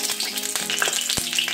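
Dried red chilies and a bay leaf sizzle in hot oil, a bright continuous crackle with a few sharp pops and spatula scrapes, close and without speech.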